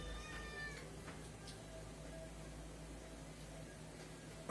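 House cat meowing in a kitchen during a cooking session with tuna in chile sauce, several faint, short meows near the start over a steady low hum of background noise.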